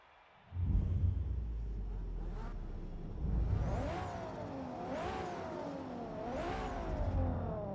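Racing car engine in a Gran Turismo 7 race, starting abruptly, then revving up and down repeatedly through gear shifts with rising and falling whine, loud and close throughout.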